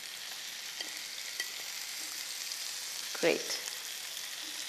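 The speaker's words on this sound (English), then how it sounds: "and then what we're going to do is just saute my blanched spinach" Blanched spinach sautéing in a little oil gives a steady close sizzle, with a brief louder stir or toss partway through and a short spoken word over it.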